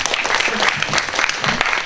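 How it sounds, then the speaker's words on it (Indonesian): A seminar audience at a university applauds to welcome a speaker, a brief burst of lively, uneven clapping from a moderately sized crowd, close and fairly loud. "Boleh kasih tepuk tangan?"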